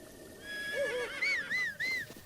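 A horse in the video game The Legend of Zelda: Breath of the Wild neighs close by, a string of rising and falling whinnies over about two seconds.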